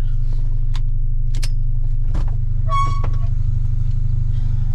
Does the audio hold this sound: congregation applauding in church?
no